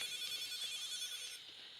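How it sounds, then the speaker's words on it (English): Weenect dog tracker on a dog's collar ringing, a steady high electronic ringtone of repeated bright tones sustained throughout and slightly quieter toward the end, heard alone without voices. "So another one of the features on the tracker is that you can actually make it ring or vibrate just by a tap of a button."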